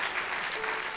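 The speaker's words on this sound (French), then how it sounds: "donnez une bonne main d'acclamation à Dieu" A church congregation gives a round of applause to God during a French-language sermon, a steady dense wash of clapping that fills the whole short moment with no break.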